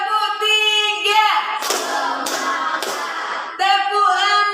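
Three sharp unison claps from a group in a school counseling session ring out one after another, with a voice leading the count before and after.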